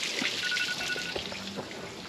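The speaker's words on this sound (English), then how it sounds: "Oh, shut up, stupid phone." A mobile phone beeps with a steady electronic tone for about a second in a noisy workshop beside a Morbark 2400XL wood chipper, followed by softer, shorter beeps.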